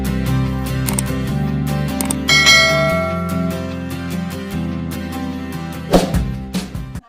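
A ringing notification bell effect chimes over a steady tonal music bed, with bright metallic strikes and a short clicking burst near the end, loud and up front.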